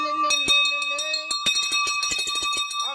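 A YouTube notification bell sound effect rings out loud and clear in a sequence of bright, shimmering chimes with dense rapid strikes toward the end, standing out on its own.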